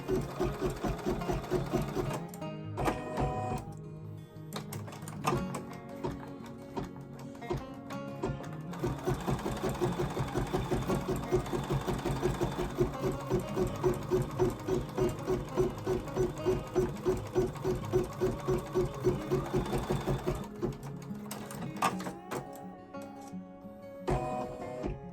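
A sewing machine runs a dense satin stitch across place-mat fabric, a fast, steady mechanical chatter that pauses briefly near the start and tapers off near the end.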